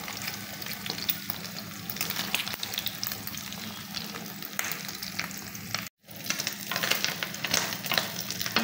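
An egg fries in a pan for a home-cooked khichuri meal, giving a steady, close crackling sizzle that continues throughout, with a momentary break partway through.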